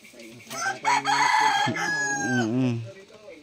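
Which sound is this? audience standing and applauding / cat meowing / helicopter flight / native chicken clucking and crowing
native chicken clucking and crowing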